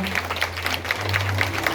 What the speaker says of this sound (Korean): 여러분 큰 박수로 함께 축하해 주시면 감사하겠습니다